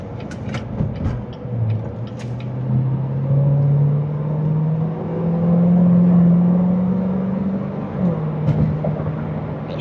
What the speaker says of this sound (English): we're gonna go on a quick test drive